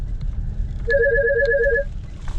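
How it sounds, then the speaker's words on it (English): A phone rings with an incoming call, a short electronic ringtone of rapid repeated warbling beeps lasting about a second, moderately loud over a low background rumble. "I am about to answer a phone call."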